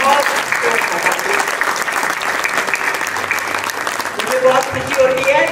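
Loud, sustained audience applause after a children's stage performance, a thick continuous wash of many hands clapping close by for several seconds, with faint voices mixed in.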